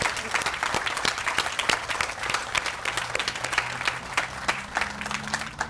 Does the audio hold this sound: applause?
yes